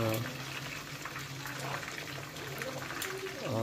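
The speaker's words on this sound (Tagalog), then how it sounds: "Pinapakuluan ko muna siya dyan." Chicken simmers in a pot of water with onion, garlic, whole peppercorns, bay leaf and salt. A steady soft bubbling and watery churn runs throughout at moderate loudness, with a faint voice in the background.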